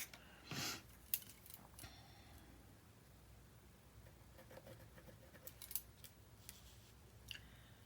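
Scissors trimming paper for a handmade mini album, quiet close snips and rustling at a low level, with a few light taps.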